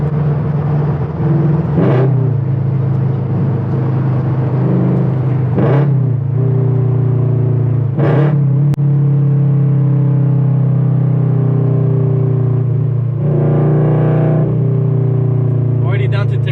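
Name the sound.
car engine downshifting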